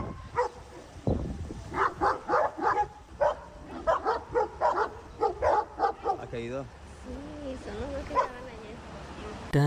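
A dog barks in a rapid string of short yips and bow-wows, fairly close, mixed with voices talking over it.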